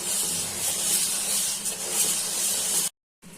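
Steady broadband hiss and rushing of water boiling in a pot on a stove before dawn, continuous and fairly loud, cutting out briefly near the end.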